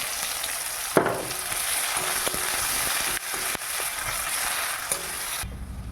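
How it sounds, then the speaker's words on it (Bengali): Bay leaves and chopped onions hit hot oil in a pan, setting off a loud, continuous close-up sizzle broken by a few stirring clacks. The frying cuts off abruptly just before the end, and no one speaks. "এরপর দিয়ে দেবো তেজপাতা তারপরে পেঁয়াজ কুচিগুলো ছেড়ে দেবো"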